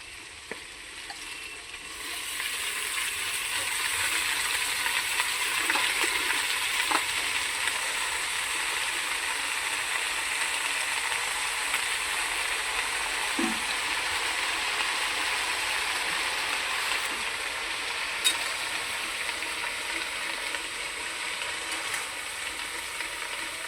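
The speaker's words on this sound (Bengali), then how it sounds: "এখন কেটে রাখা বাঁধাকপিগুলোকেও দিয়ে একসঙ্গে ভালোভাবে ভেজে নেব।" Carrots, beans and cabbage frying together in a pan, a steady close sizzle and hiss that holds evenly throughout with no talking.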